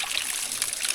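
Cold mountain stream water rushes and trickles in a steady, close, hissing flow on a hillside trail near Dharamshala, with no voices.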